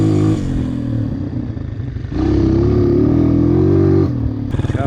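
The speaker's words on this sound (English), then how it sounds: "The idle's going a little bit up and down." A Honda CRF230 dirt bike engine idling unevenly, its close, loud putter rising and falling in speed, dipping briefly then surging steadier before a rough stutter at the end.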